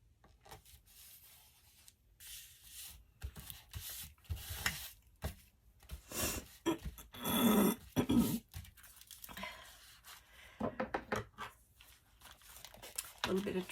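Paper envelope being trimmed and handled for a tag and journal card holder craft, close scraping, rubbing and cutting rustles in irregular bursts, with someone talking softly in between.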